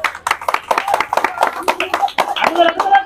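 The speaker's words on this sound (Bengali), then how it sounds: "সবাই হাততালি একটা জোরে" A group of people clapping for contestants at a village food-eating challenge, with sharp, uneven claps throughout and people talking over them.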